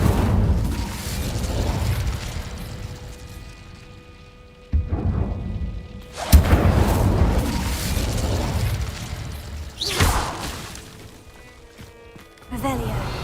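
In Hogwarts Legacy, the Incendio fire spell is cast several times: rushing, roaring fiery bursts that swell and fade over rumbling game ambience, loud and close.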